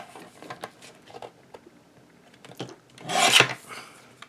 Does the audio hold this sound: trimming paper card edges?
yes